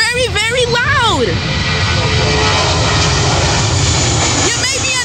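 A jet airliner at Fort Lauderdale Hollywood International Airport, runway 10R in Dania, passes loud and close overhead as a sustained roaring rumble with a high whine, while someone talks over it.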